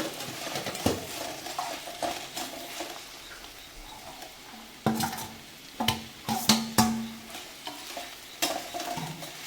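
Cabbage and capsicum are stirred in a sizzling pan, a spoon scraping and clanking against the metal in irregular strokes over a steady frying hiss, with no talking.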